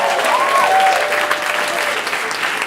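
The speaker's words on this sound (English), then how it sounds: "So don't stop clapping, keep clapping." An audience claps loudly at a comedy show for a live stand-up night. The applause is close and continuous, with a faint whistle and some crowd cheering mixed in.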